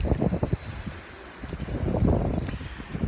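Strong wind on the east beach of La Linea in southern Spain buffets the microphone with loud, low, rumbling gusts that swell and ease, with surf faintly underneath and no talking.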